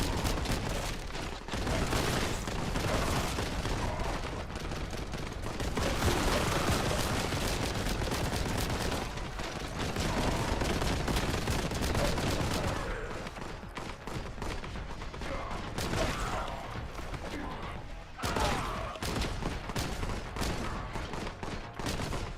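Gunfire in a video game, heard as dense, rapid bursts of automatic shooting and repeated shots throughout, loud and sustained with brief lulls between volleys.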